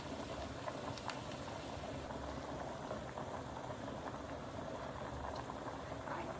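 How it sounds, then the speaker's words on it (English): Mushrooms and onion cook in a pan with a soft, continuous low sizzle, quiet and unchanging throughout. "Now we need the mushroom to cook. The onion will finish cooking."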